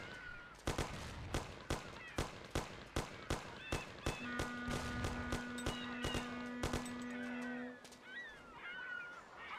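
Gunfire in the video game Mafia rings out as a rapid series of loud, evenly spaced shots, later joined by a sustained tonal horn-like blare before the shooting stops.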